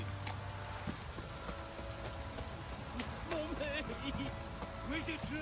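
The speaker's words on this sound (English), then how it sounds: "downpour's a bastard, it is." Heavy rain in The Witcher 3 patters steadily as a constant hiss across the whole stretch, with in-game voices speaking over it midway.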